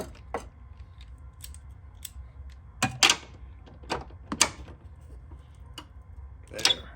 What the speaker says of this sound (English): Now we're going to torque these to 38 foot-pounds.